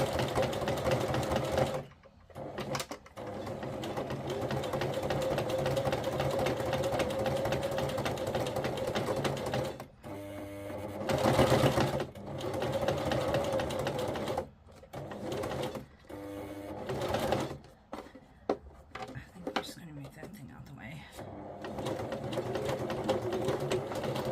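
A sewing machine stitches a fabric journal cover, running in bursts of rapid mechanical whirring with short stops and restarts, close and steady.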